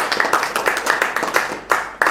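A church congregation claps during a sermon, with repeated bursts of hand claps at a steady, uneven rhythm, fairly close and moderately loud, with scattered voices mixed in.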